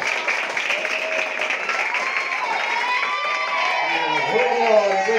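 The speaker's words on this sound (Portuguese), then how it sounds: "Vamos aplaudir o nome do Senhor pela vida dela." Church congregation applauding during a tribute at a religious retreat, a steady wash of clapping with a preacher's voice speaking over it throughout.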